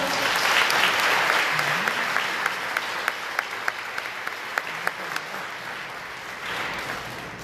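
Congregation applause at a Catholic Mass on the Second Sunday of Easter, Divine Mercy feast, following a blessing: a dense, steady round of clapping from a full room, close and loud, with a few sharper claps near the end.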